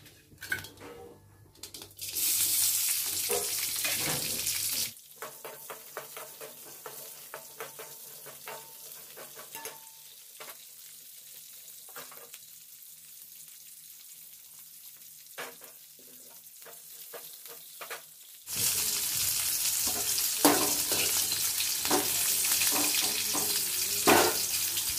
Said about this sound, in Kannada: ನೋಡ್ರಿ ಈ ಥರ ಹುರಿಬೇಕು ಸ್ವಲ್ಪ